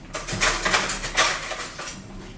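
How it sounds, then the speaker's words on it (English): A spoon stirs a hot drink in a cup, making rapid, close, bright clinking taps against the sides in an even rhythm for a couple of seconds. "I'm going to give it a stir because I have to actually drink this afterwards"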